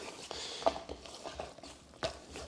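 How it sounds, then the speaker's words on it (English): Flour being stirred into bread dough in a bowl with a utensil, giving soft, quiet scraping and clinking strokes in an irregular rhythm, with a few sharper knocks against the bowl. "we're just stirring here"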